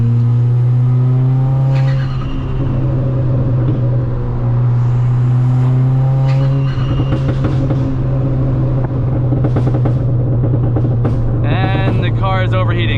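A Ford Fiesta ST on coilover suspension is driven hard, its engine droning loudly and rising and falling through the gears with heel-toe blips and a brief high squeal near the end, while the driver talks over it.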